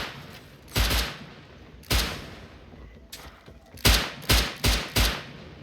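Gunfire in the survival video game Rust: a few scattered shots early on, then a quick cluster of four loud, sharp reports near the end, with little or no talk over them.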